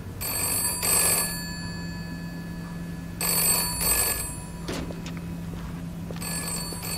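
A telephone in a phone booth rings in repeated electronic bursts, each lasting about a second with pauses between, steady and fairly loud with a constant hum underneath.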